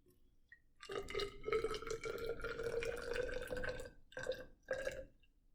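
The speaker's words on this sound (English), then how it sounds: "you can produce warm water by adding 50 milliliters of hot water and 50 milliliters of cold water" Hot water poured into a measuring container for a sugar-dissolving experiment, a close gurgling pour whose pitch rises as the vessel fills, running about three seconds, then two short follow-up splashes.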